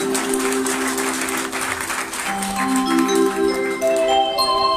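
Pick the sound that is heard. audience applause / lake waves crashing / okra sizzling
audience applause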